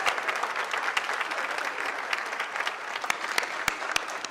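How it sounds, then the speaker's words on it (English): A convocation audience claps in a sustained, dense round of applause, loud and even, with a few sharper close claps standing out near the end. "let's give another round of applause"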